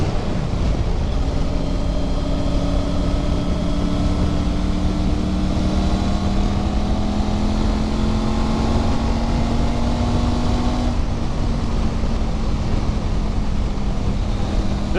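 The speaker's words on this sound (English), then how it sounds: "This is a parallel twin 270-degree crank engine" A steady Triumph Tiger 900 Rally parallel-twin, 270-degree-crank engine drone with a rising and falling pitch runs throughout, loud and close, mixed with wind rush and no talking.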